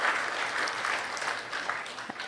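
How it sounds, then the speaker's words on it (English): Warm applause from a packed temple crowd at a 75th birthday celebration honoring a pandit, a steady round of clapping that carries on without a break and stays fairly even in loudness, with no voices over it. "a warm round of applause"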